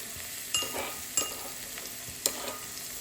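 Crushed garlic goes into hot oil with cumin in a pan for veg pulao, giving a steady low sizzle broken by a few sharp clinks and scrapes of a stirring spoon.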